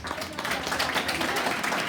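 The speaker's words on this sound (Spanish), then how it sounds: "Un aplauso para ella, por favor" An audience at a Theosophical conference claps for a woman named Georgina, a brief, fairly loud burst of many hands that continues through the moment, with voices mixed in.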